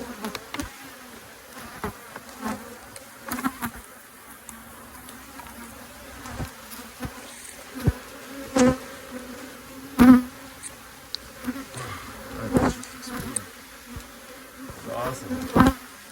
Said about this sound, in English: But there are a lot of bees.